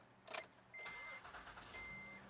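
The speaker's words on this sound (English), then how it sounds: "I'm gonna start the engine." A Honda Odyssey minivan with a check engine light on is started, a brief cranking burst followed by the engine catching and settling into a steady close idle, with a faint high whine running through it.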